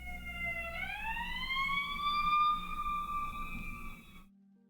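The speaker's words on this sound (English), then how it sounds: "Sorry about the sirens." Emergency vehicle siren wails outside, a single rising then sustained tone heard moderately loud through a room before cutting off abruptly.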